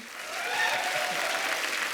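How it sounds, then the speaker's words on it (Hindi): A studio audience at a comedy talk show breaks into loud, dense applause that swells and holds steady, filling the room with continuous clapping. "इनके लिए जोरदार ताली हो जाए"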